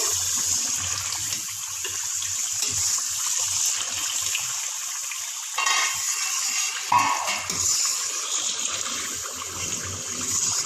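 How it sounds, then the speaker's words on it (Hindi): Masala for white biryani frying in ghee gives off a steady, loud sizzle that hisses continuously, with slight surges as the mixture is stirred. "बस 2 मिनट इसको और भूनते हैं ताकि ये घी छोड़ दे और अच्छे से ये भून जाए।"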